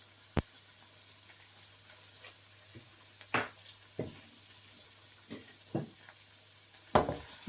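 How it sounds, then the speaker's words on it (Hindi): Ginger garlic paste and onions fry in a pan, with soft, faint sizzling and occasional sharp spoon clinks and scrapes, scattered and sparse over a low steady hum. "वन मिनट के लिए ओनियन के साथ इसको भूनेंगे।"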